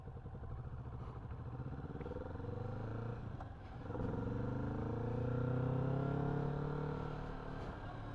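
Kawasaki Vulcan S 650 motorcycle being ridden home from the dealership, its engine droning steadily with gear changes and rising revs, heard from the rider's position along with wind rumble.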